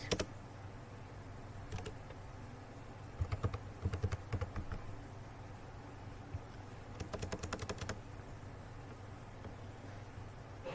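Computer keyboard typing in short bursts of quick clicks during Photoshop work, with pauses between bursts over a steady low background hum; the keystrokes are fairly soft and close.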